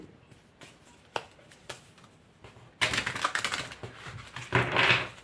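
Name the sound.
drawing tarot cards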